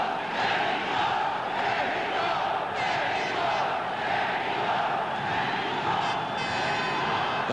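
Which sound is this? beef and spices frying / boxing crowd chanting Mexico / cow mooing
boxing crowd chanting Mexico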